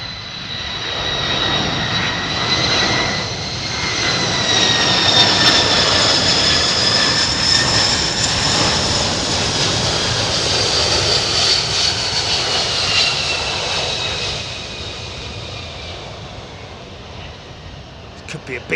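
A trijet airliner with three General Electric CF6 engines lands at Memphis and goes into thrust reverse, a loud, close whining roar with rising and falling tonal whines that swells, holds and then tapers off, with brief talk underneath.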